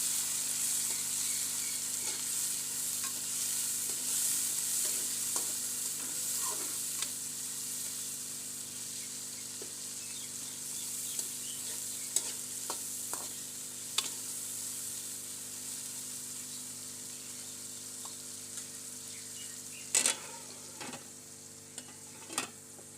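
Tomatoes and green chillies sizzle steadily in a frying pan over a medium flame while being stirred, with soft scraping and occasional sharp clinks of the spoon against the pan, no talking.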